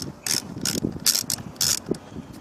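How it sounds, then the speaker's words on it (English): A ratchet with a 10mm socket loosens a hose clamp during knock sensor replacement on a 2002–2006 Lexus ES300/ES330 or Toyota Camry. About five sharp, rapid clicking bursts come close up and clear, with no talk. "so I'm going to use the same 10mm socket and loosen it up"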